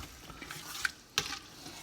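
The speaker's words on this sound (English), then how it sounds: "you add that in and give it a stir" A spoon stirring crab-ball seasoning into a pot of gumbo, two short scraping clinks over a low simmering hiss, close and fairly quiet.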